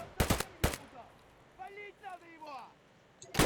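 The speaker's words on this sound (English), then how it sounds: "Is that one of you guys shooting?" Escape from Tarkov gunfire cracks out in two loud close shots at the start and one more at the end, with voices talking between them.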